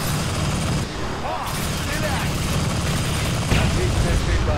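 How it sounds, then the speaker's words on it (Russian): Rapid gunfire bursts in the video game Crysis 3 crackle over a dense, noisy battle mix, loud and continuous with sharper peaks toward the end. "отличная стрельба."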